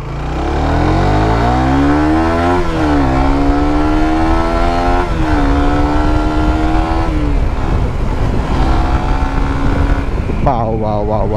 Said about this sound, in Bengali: ফার্স্ট গিয়ারে বাইকটা কত যায় দেখবেন নাকি?